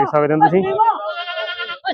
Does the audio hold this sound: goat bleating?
yes